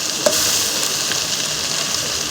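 Banana flower (mocha) with ginger and garlic sizzles steadily in a hot wok, a continuous bright frying hiss with a faint stir or clink early on.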